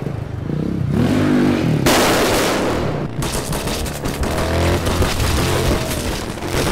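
A KTM dirt bike dressed up to look like a Harley-Davidson, shot for an action chase scene under a tree canopy, its engine loud and close with bursts of revving and roaring over heavy continuous noise, with no talk.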